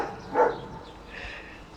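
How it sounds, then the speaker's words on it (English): A dog in a garden gives a single short bark, fairly close and moderately loud, followed by quiet outdoor background. "And she'll have a little bark."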